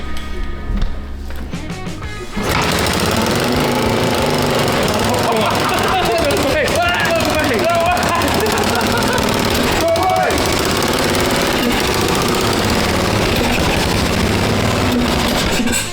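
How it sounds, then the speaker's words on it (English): An 1980s Honda XL600R single-cylinder motorcycle fires up on the first kick after restoration, with a blowing exhaust, then runs with a loud, rough, continuous rumble close by; someone talks over it. "Engine sounds great. Exhaust is blowing crazy."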